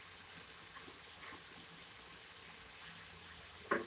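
Lamb, liver and onions cooking in a pan give a faint, steady sizzling hiss throughout, quiet and continuous, ending with a brief louder clink near the end.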